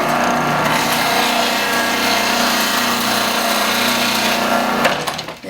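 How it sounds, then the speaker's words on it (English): A Magimix 5200 XL food processor juicing cucumber slices runs with a loud, steady high-pitched motor whine and grinding buzz, holding constant for about five seconds before winding down at the end. "I love this machine. It's called a Magimix."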